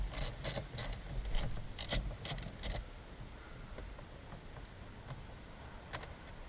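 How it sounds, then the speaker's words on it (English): A 14mm wrench ratchets on a steering wheel bolt of a 2007 Honda Fit, a close burst of quick metallic clicks in short groups before fading to quiet handling noises. "Get a wrench. Looks like a 14mm right on."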